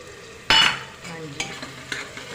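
Ginger-garlic paste hits frying onion, tomato and green chilli in a pan with a sudden loud sizzle, then settles into softer frying and a few stirring scrapes.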